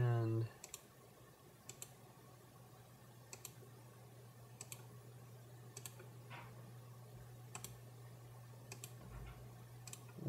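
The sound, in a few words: mouse clicking while drawing roto shapes in Shake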